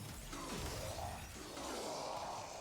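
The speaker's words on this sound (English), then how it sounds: "slam to release a shockwave, which will proc the glass system and you will shatter them" Enemies shattering like glass after a slam shockwave in the Warframe video game, heard as a dense, continuous wash of crashing, crackling debris and whooshing noise that stays loud throughout, with no talking.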